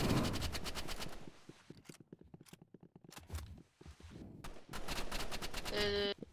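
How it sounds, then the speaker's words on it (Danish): Gunfire in the Roblox game Rivals: rapid volleys of automatic shots, then sparser single cracks, then another dense burst, all close and loud with a brief quiet gap in the middle. "Jeg bliver skudt efter."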